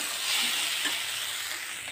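Moringa flowers fry in a pan with a soft, steady sizzle, quiet and close, with a faint stir partway through and no talking.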